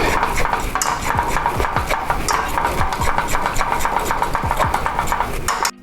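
Grits being whisked with vegan butter in a pot, a steady run of quick scraping, tapping strokes from a metal whisk, close and fairly loud, continuous for several seconds before stopping abruptly.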